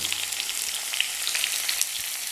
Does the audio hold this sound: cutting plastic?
no